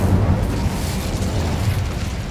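A fire spell cast in Hogwarts Legacy bursts into a dense, roaring whoosh of flame, loud and sustained through the short moment with no talking.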